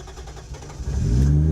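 Nissan Cefiro fitted with a 1JZ engine cranking and catching, a low rumble rising into a steady, loud running engine note heard alone from inside the car.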